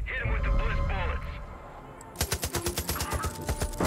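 Rapid automatic gunfire in Far Cry 5, firing bliss bullets: a quick run of about a dozen loud, evenly spaced shots bursts out after a stretch of game noise and someone talking.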